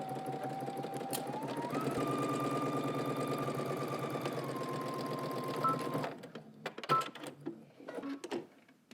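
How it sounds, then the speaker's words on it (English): A sewing machine stitches a pants seam at a 5/8-inch seam allowance, humming steadily at a rising then level pitch for several seconds before stopping, followed by scattered clicks and handling noises. "start at one end using 5/8 of an inch seam allowance, stitching to the crotch, and then back down the other side"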